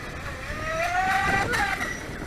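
A small brushless motor whines and rises in pitch as a FeiLun FT012 RC racing boat speeds across water at 25% throttle, a steady buzzing drone with faint splashing and wind behind it.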